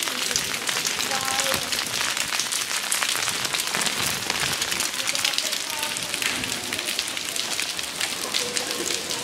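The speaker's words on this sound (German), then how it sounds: "So, dann gehen wir mal weiter im schönen Regen," Rain falling steadily on a Barcelona street, a dense, constant patter and hiss of drops on hard surfaces, loud and close throughout with no break.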